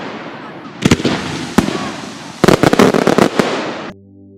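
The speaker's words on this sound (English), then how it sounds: "did you hear the sound of cracker?" Sharp, loud Diwali firecracker bangs go off, a few isolated pops and then a rapid crackling burst, before fading out.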